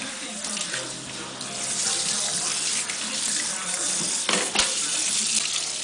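Cold water runs steadily from a tap, splashing loudly and close as it rinses a toddler's hair during a wash, a continuous gushing stream with no talk over it.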